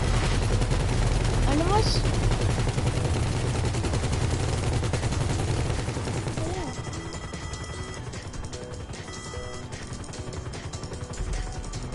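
Gunfire in GTA 5, a steady barrage of shots under a loud, busy game mix, with people talking over it and the intensity dropping slightly partway through.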